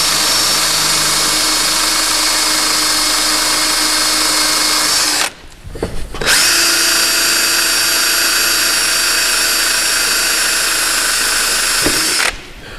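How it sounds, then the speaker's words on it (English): A power drill bores through a gearbox cross member in two loud, steady runs of high whine, with a brief drop in between, and no voices. "I'm just going to drill through the gearbox cross member."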